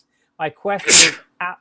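A single loud, close sneeze bursts out, bracketed by short bits of speech before and after.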